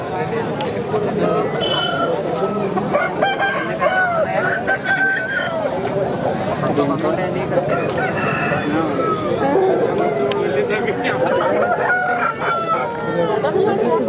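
Fighting roosters crowing and clucking at a busy cockfighting bird market in Andhra Pradesh, with repeated crows from several birds over steady crowd chatter and bargaining voices throughout.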